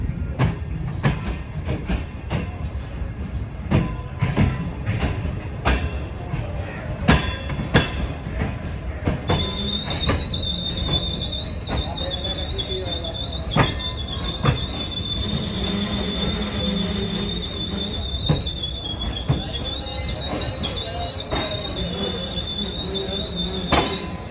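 The Shah Hussain Express pulls into the platform at Khanewal. Sharp rhythmic wheel clacks give way to sustained high-pitched brake and wheel squeal over a steady rumble as the train slows.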